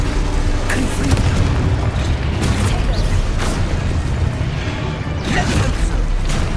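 Confringo fire spell blasts in the Hogwarts Legacy video game, a dense roaring boom with several sharp bursts over a continuous loud rumble, with other spell effects and voice shouts mixed in.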